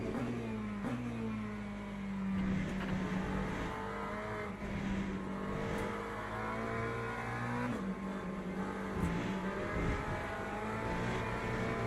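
A hypercar in the racing game Le Mans Ultimate roars by with a loud, sustained engine note that rises and falls as it revs, the drone steady and close throughout.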